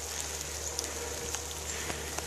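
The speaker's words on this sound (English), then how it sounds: "It started raining." Rain falling on a hiking trail in Caesar Creek State Park, Ohio, a steady soft patter with scattered drips, fairly quiet and with no voices.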